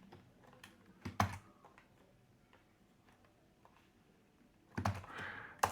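Keystrokes on a computer keyboard come in short bursts of sharp clicks, with a quiet gap in the middle before a denser cluster of taps near the end, all faint and close.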